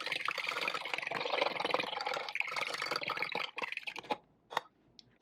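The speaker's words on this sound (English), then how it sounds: "So I'm gonna go add 7/8 of a cup water to this mixture as well." Water pours into a measuring cup, a steady splashing trickle that fills for several seconds, then stops, leaving a few faint drips and clinks near the end.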